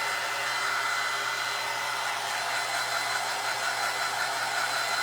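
A hair dryer blows steadily on a fabric ring holder craft, a close, constant whooshing hum with no pauses and no talking.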